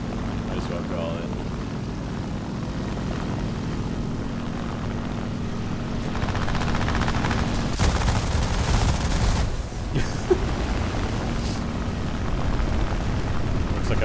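Fixed-wing aircraft in the War Thunder video game: a steady engine drone throughout, with a louder stretch of rapid gunfire bursts in the middle.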